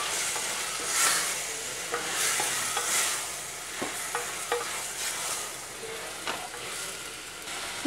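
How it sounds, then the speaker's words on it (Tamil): Mutton being stirred with tomato and onion in a hot pan, a loud constant sizzle under repeated scraping strokes of a spatula, close and steady throughout. "இதை வந்து நல்லா அந்த தக்காளி வெங்காயத்தை கூட நல்லா கிளறிக்கணும்."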